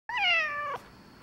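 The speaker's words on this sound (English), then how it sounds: "He just keeps looking up in the air and meowing." A house cat gives a single clear, close meow that rises slightly then falls, lasting under a second and ending abruptly in a quiet room.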